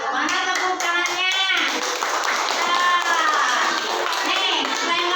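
A group in a school observation lesson claps hands, loud and close. Children's and adults' voices call out over the clapping throughout.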